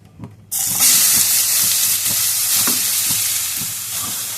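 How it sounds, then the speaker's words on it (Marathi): Grated carrots for gajar halwa hit a hot pan with a sudden loud sizzle that keeps hissing steadily, while a utensil scrapes and stirs in a regular rhythm underneath. "आता हे संपूर्ण गाजर आपण टाकून घेऊया"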